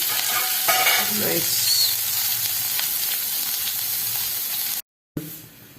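Food sizzles and hisses steadily in a hot pan with occasional stirring scrapes, then cuts out briefly before the sizzling resumes.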